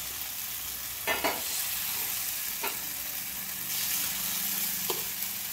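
Appe batter sizzles in a hot oiled appe pan with a steady, soft frying hiss, broken by a few brief sharper crackles and spoon taps as batter is dropped in, no voices.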